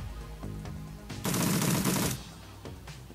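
A short, loud burst of rapid gunfire in the Shadowrun Returns video game, close and dense for about a second amid softer combat sounds, with no talking.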